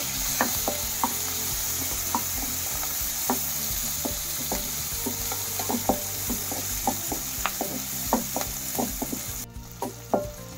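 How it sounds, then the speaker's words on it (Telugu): Onions and curry leaves fry in hot oil for a tempering, a steady sizzle with scattered pops and crackles throughout and a spoon stirring now and then, with no talking. "కరివేపాకు, ఉల్లిపాయలు వేసి కొంచెం వేగనివ్వాలి"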